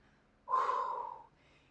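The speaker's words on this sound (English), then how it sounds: "Keep breathing." A single heavy exhale, forceful and close, during a dumbbell workout, lasting under a second and standing out against an otherwise quiet background.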